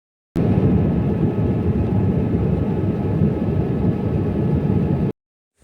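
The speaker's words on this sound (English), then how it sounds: "Now we are in Ethiopia airport." Airport ambience at an airport in Ethiopia: a steady, loud broadband roar like a nearby aircraft engine, running evenly for about five seconds with no talk.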